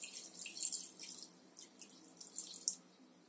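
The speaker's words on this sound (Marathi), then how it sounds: "आता यात आपण थोडं पाणी घालूया." Water poured into a sautéed mixture in a cooking pot, a faint, soft splashing trickle with small uneven bursts, heard alone and quiet.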